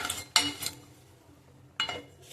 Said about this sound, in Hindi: तो इसे अच्छा भून लेना, देखो रवे को।